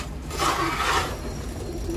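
Homing pigeons in a loft give low, soft cooing that swells and fades over two seconds, heard close and alone against a faint hiss.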